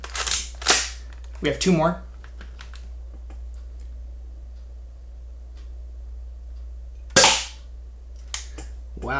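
An airsoft Desert Eagle pistol fires sharp, loud snapping shots, a few spaced out early and one more after a long pause, with a person speaking briefly between them.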